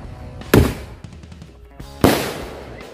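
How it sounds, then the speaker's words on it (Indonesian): Two sharp, loud bangs from a mercon keras sakti firecracker about a second and a half apart, each followed by a brief crackling decay, with small pops between them. "yang selanjutnya ini kita sumet mercon keras sakti"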